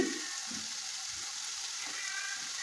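Vegetables, potatoes and green tomatoes, frying in a fish curry with silver carp, a steady broadband sizzle of hot oil with a few soft stirring scrapes throughout.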